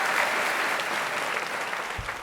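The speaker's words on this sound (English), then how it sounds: "Let's give them another round of applause." Brief, steady round of audience applause at a performance event, a dense even wash of clapping from a seated crowd throughout, with no talking over it.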